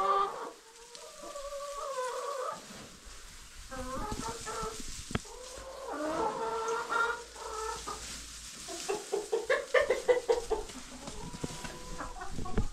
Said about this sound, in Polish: Kury nie wychodzą dalej na dwór